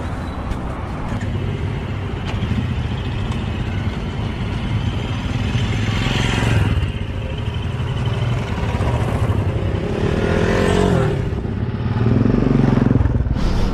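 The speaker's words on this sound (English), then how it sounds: "Let's start the bike and let's go, man." A motorcycle engine running steadily and loudly close by, a continuous low rumble with a few rising revs as the bike sets off.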